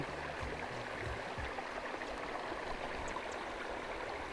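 Water flows steadily in a natural pool outdoors as a soft, continuous rushing wash, fairly faint and even, with a few low rumbles at the start.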